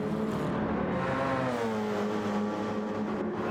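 BMW race cars in a racing video game at Interlagos, engine whine rising and shifting pitch as cars pass, a moderate steady roar with no talk.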